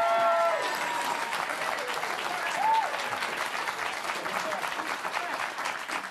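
A crowd applauds steadily, a dense wash of clapping that holds for several seconds with a brief whistle or cheer near the start.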